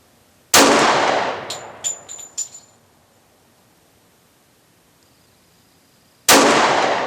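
Two loud, sharp Glock 36 .45 ACP pistol shots fired slowly about six seconds apart, each a sudden crack with a short decaying ring; after the first, brass casings tinkle and clink several times in the quiet between shots.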